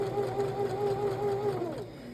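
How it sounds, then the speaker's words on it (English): A sewing machine runs slowly, stitching the sides of a fabric pouch with a steady, close motor whir that winds down and stops just before the end. "I'm going to sew nice and slowly so that as the pins come up, I can remove them."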